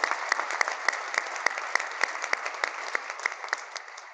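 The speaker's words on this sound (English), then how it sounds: "Let's give them a round of applause." A community centennial celebration crowd claps for honoured organisers, a modest group producing fairly sparse, distinct hand claps in a loose rhythm over a few seconds, moderately near.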